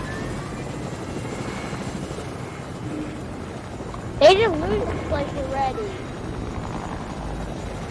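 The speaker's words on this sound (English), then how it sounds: "Oh, helicopter." A helicopter in the video game Fortnite drones with a continuous rotor hum under talking, and a sharp burst of game sound cuts in briefly midway.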